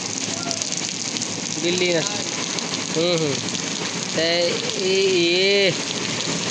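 Heavy rain pours down steadily in Faridpur, a dense, loud roar throughout, with voices calling and chattering under it.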